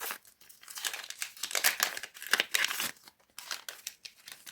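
Plastic packaging crinkles and crackles in bursts as it is handled up close, with brief pauses between the rustles.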